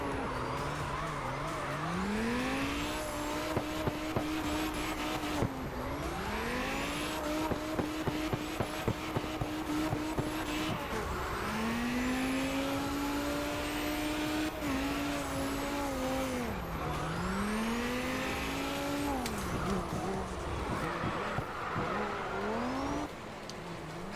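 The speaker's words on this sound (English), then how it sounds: "That was a solid drift." A car in the CarX racing game drifts through repeated sweeping slides. Rising and falling engine revs and long tire squeals arrive in several waves, loud and continuous, with no talking.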